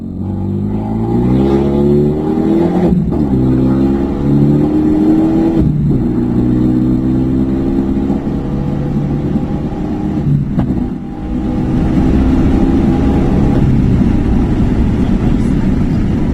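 A Renault Megane 3 RS accelerates hard, its engine note climbing steadily through several gears with brief dips at each shift, loud and close throughout.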